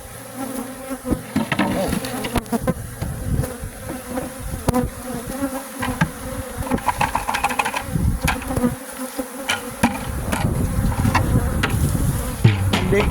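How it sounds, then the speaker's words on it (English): A dense swarm of bees buzzing continuously and close by as they are dumped into a new bee box, with scattered knocks and taps mixed into the droning hum throughout. "then I will take and dump the bees in."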